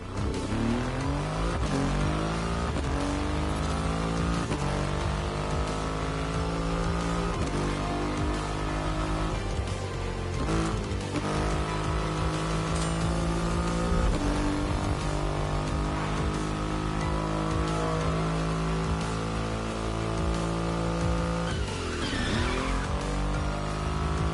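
A Triumph Rocket 3 motorcycle with its 2.5-litre engine roars in The Crew Motorfest, revving hard and loud through repeated gear changes and sweeping pitch climbs with no pause.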